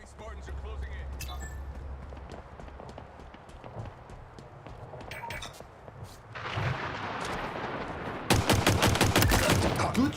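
Gunfire in a Halo video game battle: sustained bursts of rapid shots and heavy impacts, loud and busy, building to a dense, harsh volley near the end, with game voices and talk over the top.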